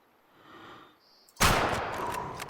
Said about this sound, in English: I think I'm going to go for using the rifle.